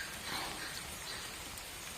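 Heavy rain falling over a home garden, a dense, even hiss of drops on leaves and surfaces, steady and continuous throughout with no voices.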